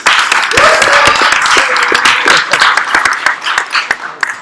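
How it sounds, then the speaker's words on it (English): Audience applause after a talk at an Ethereum conference, a dense wash of many hands clapping with a few voices and cheers mixed in, loud and steady before starting to thin out toward the end. "give it a big round of applause for Consensus"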